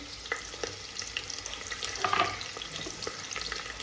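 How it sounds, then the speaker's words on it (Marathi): Sliced onion and green chillies sauté in hot oil, a dense close crackle and hiss with quick stirring scrapes over a few seconds. "थोडंसं परतून घेऊया याला पण"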